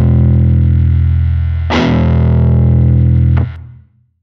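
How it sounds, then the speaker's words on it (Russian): A distorted electric guitar power chord rings out with long sustain, struck again once partway through, then cut off and fading into silence; loud and alone. "Если мы включим перегруз, то услышим довольно долгий сустейн на пауэр-аккорде."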